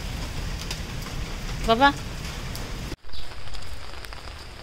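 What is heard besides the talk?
rain falling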